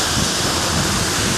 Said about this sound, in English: A giant waterfall.